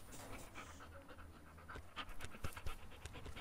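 A dog pants steadily and close by, a quick rhythmic huffing that carries on throughout without talk.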